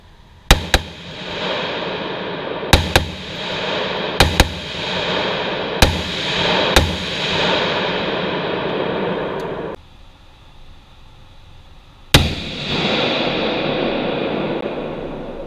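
Bushmaster BR-308 AR-10 rifle firing at an indoor range, several loud sharp shots spaced a second or two apart, each followed by a long ringing echo, then a brief quiet gap before one more shot.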